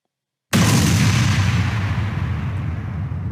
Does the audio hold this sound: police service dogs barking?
no